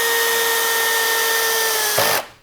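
A Skil PWRCore12 hammer drill driving a drywall screw, a steady whining motor hum held for about two seconds, then a brief bump as the screw seats and the drill spins down quickly to silence.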